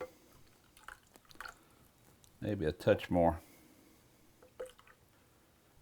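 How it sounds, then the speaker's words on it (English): Water poured into a Korean kalbi marinade in a kitchen, a short wet splashing pour of about a second, close and fairly loud, with a quiet voice speaking briefly before and after. "Now we're going to thin this out a little bit with some water."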